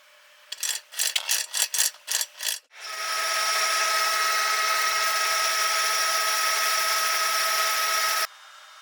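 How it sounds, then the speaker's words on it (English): A power drill boring holes for M3 screws in RC tractor wheels: several short bursts of drilling, then one sustained high whine for about five seconds before cutting off, close and clear. "He drills 8 holes for M3 screws to attach them."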